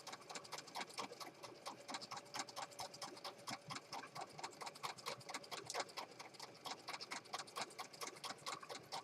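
A sewing machine stitches slowly through a journal cover, its rapid mechanical ticking steady and close throughout with no talk.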